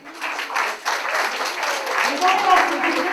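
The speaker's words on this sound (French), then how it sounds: "je vous demande de l'applaudir bien fort" An audience at an evening event during game week in Condé-sur-l'Escaut applauds for about three seconds. The clapping is a dense, sustained wash with a voice talking over it.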